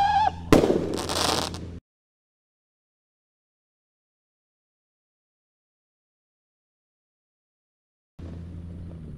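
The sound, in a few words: red Roman Candle firework rocket launching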